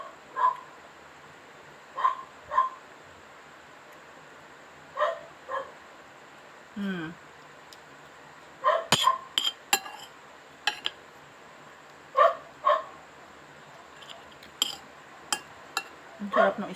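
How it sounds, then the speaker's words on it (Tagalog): Several dogs bark loudly in short, separated bursts and pairs across the clip, fairly near, mixed with occasional clinks of dishes. "Gayon kalakas ang tahol."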